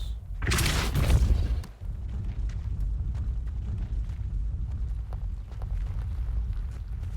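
The Depulso spell is cast in the video game Hogwarts Legacy, a loud booming blast that lasts about a second, then gives way to a steady low game ambience.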